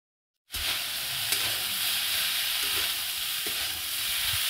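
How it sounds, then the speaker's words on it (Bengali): Mixed vegetables with peas fry and are stirred in a pan: after a brief silence, a loud, steady sizzle starts, with intermittent scraping and clinks of stirring over it. "সবজিগুলো ভাজা হয়ে গেছে। আমি কোনো সবজিই কিন্তু খুব লাল করে ভাজিনি, হালকা লাল করে ভেজেছি।"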